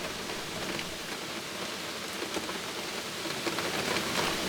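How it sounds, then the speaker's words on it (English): Steady rain falls and patters on surfaces, a continuous even hiss at moderate level with no voices. "The rain is singing too."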